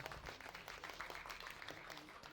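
Applause from an audience at an EA FC26 gaming tournament final in Verdun, a dense steady patter of many hands, fairly faint and distant in a reverberant hall, with voices murmuring underneath.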